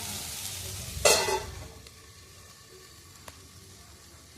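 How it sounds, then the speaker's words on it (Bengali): Vegetables and ginger for vegetarian chowmein sizzle in a pan, with one loud burst of frying as the pan is stirred or covered, then a faint, steady hiss. "ভাজা হতে দেবো"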